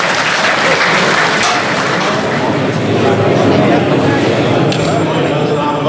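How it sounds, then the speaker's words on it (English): At a Charolais cattle auction, a room of bidders breaks into loud, sustained clapping, with crowd chatter and an auctioneer's voice running underneath the applause. "Give him a round of applause"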